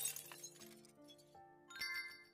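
A glass shard clinks as it is picked up in a puzzle video game, a short bright chime over a steady tonal game music bed, with a second cluster of glassy tinkles near the end.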